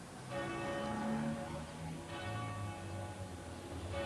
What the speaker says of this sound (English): The bells of City Quay.